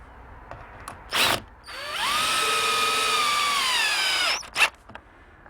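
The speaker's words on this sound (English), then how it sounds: "slip in the box and the reinforcing plate, and we'll attach that with a couple screws." A cordless power drill drives a screw into a door strike box and reinforcing plate on an entrance door, one sustained whirring run of a few seconds framed by short clicks and bursts.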